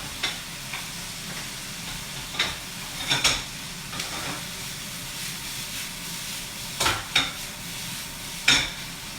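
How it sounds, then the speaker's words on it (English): Onions and sweet potatoes fry in a pan in a hotel community kitchen, giving a steady soft sizzle and hiss broken by several sharp clicks and scrapes of stirring. "You can see where the onions and the sweet potatoes just starting to catch the pan now."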